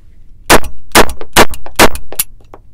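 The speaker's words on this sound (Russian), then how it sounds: "Начнем стрельбу, посмотрим, как работает эта машинка." Five loud, sharp shots from a BOND 007 signal pistol, a Walther PPK clone, fired in a quick uneven series, each a hard crack with short ringing tails, followed by a few fainter mechanical clicks.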